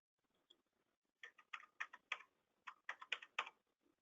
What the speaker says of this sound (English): we're typing in the information that is required